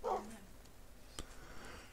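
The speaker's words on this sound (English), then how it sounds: "Oh, we got some dogs." Minecraft dogs barking in the video game: a short yelp at the start and a faint single bark about a second later, both quiet over low background hiss.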